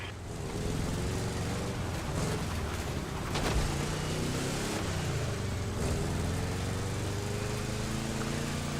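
A Volkswagen Beetle engine drones steadily while driving in The Crew Motorfest racing game, a continuous loud hum with harmonic tones that shift slightly in pitch, holding level throughout without voices.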